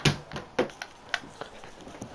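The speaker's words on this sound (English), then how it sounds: "I decided to drop my girlfriend's makeup bag" A makeup bag is dropped and its contents knock and clatter: a series of sharp, close taps and thuds scattered irregularly over about two seconds, with faint background hiss between the hits.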